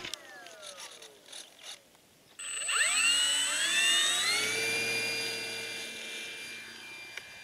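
An RC Corsair model airplane motor buzzes, rising sharply in pitch and swelling loud as it throttles up and flies past, then holding a steady high whine as it fades slightly.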